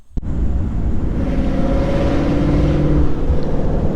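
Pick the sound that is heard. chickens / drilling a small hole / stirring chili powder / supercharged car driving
supercharged car driving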